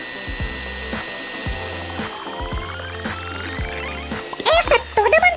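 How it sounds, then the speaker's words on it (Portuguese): An electric stand mixer beats cake batter with an egg being added, giving a steady whirring motor hum with rhythmic pulses, and speech joins near the end. "tenham cuidado e peçam ajuda de um adulto com a batedeira. Agora vamos adicionar um ovo e batemos na mistura até que esteja bem uniforme"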